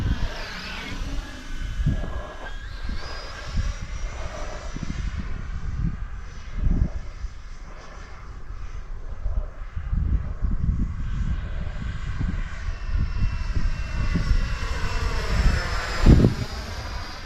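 A Freewing Vulcan RC model jet flies slowly overhead, its steady ducted-fan whine with shifting harmonic tones sweeping past, moderately loud and continuous throughout, swelling briefly near the end as it passes closer.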